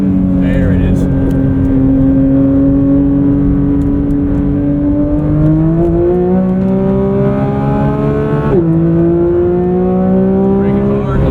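A 2024 Porsche 911 GT3 MR engine pulls hard on a track, pitch climbing steadily through a long acceleration with a brief dip at a shift, loud and continuous from inside the cabin, with voices talking over it.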